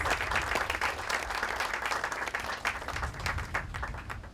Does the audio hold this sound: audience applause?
yes